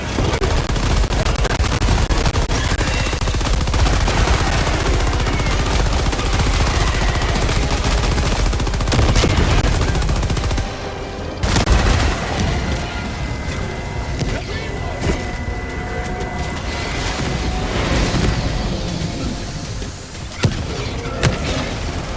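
Sustained rapid gunfire and explosions from the video game Helldivers 2 fill the whole stretch, loud and dense, easing slightly after a sharp break partway through, with occasional booms and impacts and some voices underneath.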